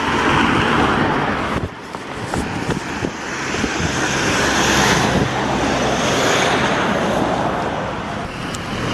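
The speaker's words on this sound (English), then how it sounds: "So we start with a very busy road." Steady roar of heavy traffic on a very busy road at 7:40 in the morning, continuous close car and engine noise with passing vehicles swelling and fading, no pauses throughout.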